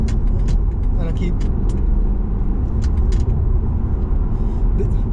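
Diesel engine of a BMW 320d xDrive G20 saloon drones as a steady low rumble from inside the moving car, continuous and fairly loud, with road noise and brief faint higher clicks over it.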